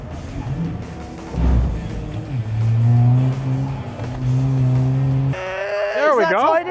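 A hot hatch car accelerating hard under load, its engine note rising and dropping as it shifts gears, loud and close with excited voices shouting over it.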